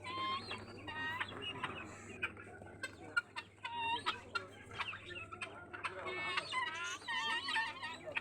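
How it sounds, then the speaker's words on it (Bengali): Chickens of several breeds cluck, squawk and call in a poultry shop in Chattogram's Chawkbazar, with overlapping calls near and far and a low steady hum beneath. "এই দোকানে বিভিন্ন জাতের মুরগি পাওয়া যায়, আর বিভিন্ন ধরনের পাখিও আছে।"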